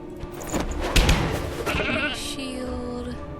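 A goat bleats in the video game Aces and Adventures, a wavering cry rising over a thud and game sound effects, close and fairly loud, with brief talk at the start.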